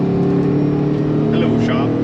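A vehicle engine fitted with a new intake is rolled to full throttle, a loud, rising engine roar heard briefly beneath a voice.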